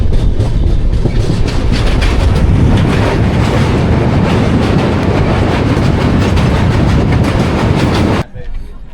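A passenger train pulls away from Ankleshwar station in the evening, bound for Vadodara on a Mumbai to Girnar journey, with a loud continuous rumble and rhythmic clickety-clack of wheels on rails from onboard, ending abruptly.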